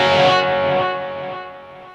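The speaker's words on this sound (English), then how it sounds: "So here's the reverb on at 70 level." Distorted electric guitar chord played with reverb set at level 70, a loud strummed chord ringing out and decaying into a smooth reverberant tail.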